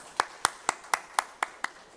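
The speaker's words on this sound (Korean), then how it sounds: "우리 이 시간 하나님께 그리고 또 귀한 말씀을 주신 목사님께 감사의 박수 올리겠습니다." Slow, measured hand claps of thanks during a church ordination service, about seven evenly spaced claps ringing in a reverberant room, moderately quiet with no voices over them.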